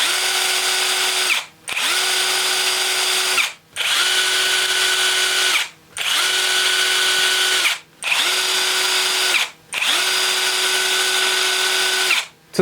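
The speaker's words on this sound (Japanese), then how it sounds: "続いて中華製のインパクトドライバー。" A Chinese-made impact driver runs in six long, loud, steady bursts of high, rattling hammering, each about two seconds, with short silent gaps between them, close up and with no voices.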